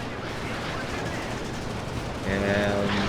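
Artillery and gunfire in the war strategy game WARNO, a continuous rumbling barrage of shots and blasts that swells louder toward the end, with a voice talking over it.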